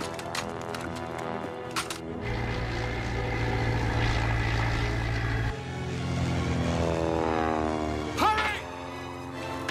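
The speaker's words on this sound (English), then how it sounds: "You can tell by the sound of the engine." A German propeller aircraft engine droning loudly overhead, a steady harmonic roar that swells and holds near, with brief shouts and other noises cutting in over it.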